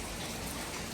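Steady rain falling and splashing on surfaces, a continuous dense hiss close by with no talk.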